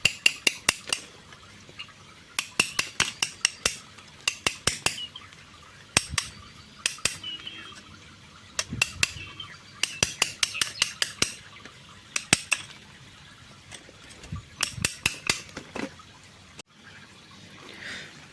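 A hammer chips the edges of a brick to shape it into a small succulent or bonsai planter, giving sharp, bright clacking taps in irregular bursts and clusters, close and fairly loud, with short pauses between runs of blows.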